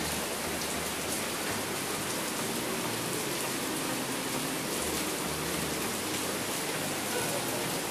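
Steady, dense rainfall patters down continuously at an even volume, with no talking and no breaks.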